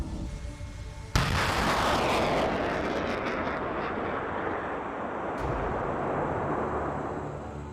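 A British M270 multiple rocket launcher fires missiles in a sudden loud blast that becomes a sustained roaring rush lasting several seconds, with a second burst near the end, heard from a moderate distance.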